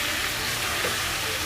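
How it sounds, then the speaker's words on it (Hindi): Chicken sautéing in a karahi for Kashmiri chicken karahi, giving a steady, close, even sizzle and hiss that runs unbroken with no speech over it. "चिकन को भी हमने सौते करना है"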